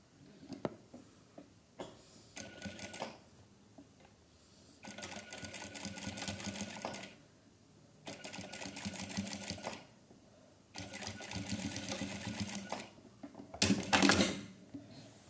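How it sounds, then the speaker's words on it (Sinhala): A sewing machine stitches elastic in fast mechanical runs, several buzzing bursts of rapid needle clatter separated by short pauses and small clicks, close and moderately quiet. "මැහුම් පාරක් දාගන්න."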